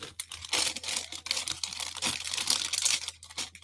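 Thin plastic Lego parts bags crinkle and tear open close up, a run of sharp rustling and ripping bursts with no talk.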